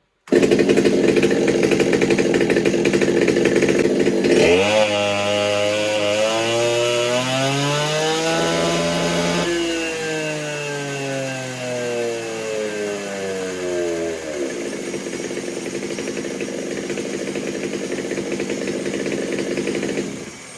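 A Stihl 200T clone chainsaw engine with exhaust mod and advanced timing runs loud and close on a dyno. It holds a high buzzing note, then sweeps down and back up in pitch as the load changes, with no talk.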